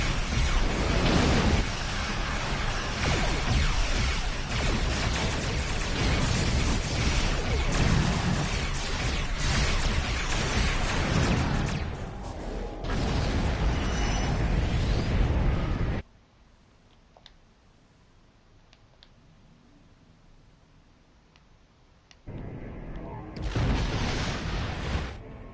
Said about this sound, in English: So much explosion.